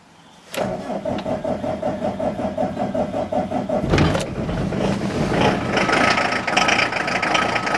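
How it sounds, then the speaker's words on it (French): Cold start of a car that has sat unused for a week: a sharp crank, the engine catching, then a steady rough idle with slight revving, loud and close. "on va se faire un petit démarrage à froid pour le plaisir"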